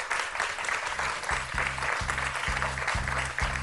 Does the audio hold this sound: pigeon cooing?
no